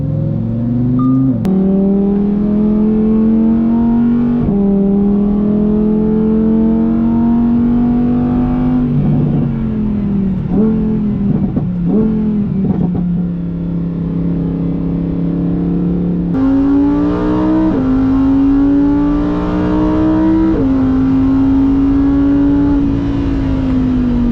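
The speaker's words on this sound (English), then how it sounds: "Now, let's drive them on the track." A Lamborghini Huracán driven hard on a race track in sport mode with manual shifting: a loud, close engine rising in pitch through the gears, with sharp shifts and brief lifts, sustained throughout.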